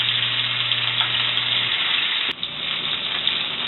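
Bison sirloin steaks sizzle steadily in a hot pan, a dense continuous frying hiss at close range with no talk, and a soft hum fades out partway through.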